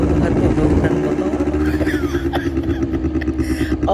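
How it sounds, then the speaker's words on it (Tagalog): An ATV engine runs on red sand, a loud, close rumbling drone with a rough pulsing beat, continuous throughout, with voices mixed into the noise. "Naririnig yung mga tunog ng motor."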